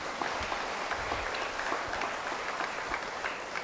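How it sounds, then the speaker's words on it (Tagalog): A church congregation applauds during a Mass for the Solemnity of Mary, Mother of God, a sustained, moderately distant wash of many hands clapping with faint crowd murmur and no speech over it. "Palakpakan naman natin muna ang ating Panginoon."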